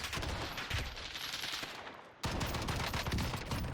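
Rapid gunfire in the video game Warzone, fought from the upper floors of buildings, rings out as dense, loud bursts of overlapping shots that run almost continuously, with a brief dip near the middle and no talking.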